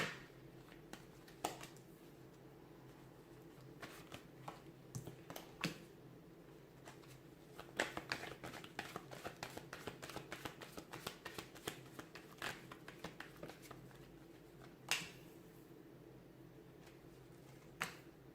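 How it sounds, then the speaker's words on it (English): Tarot cards being shuffled with quick riffling bursts and soft flicks, growing rapid and dense in the middle, then a final sharp snap; close and quiet, no talking. "let's give the cards a shuffle"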